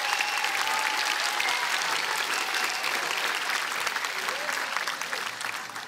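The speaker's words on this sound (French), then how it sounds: "Applaudissons Cécile Chaduteau." Audience applauds steadily for Cécile Chaduteau, stage-performance teacher, at a Star Academy grand final show, a dense sustained wash of clapping and crowd noise throughout, fading slightly at the end.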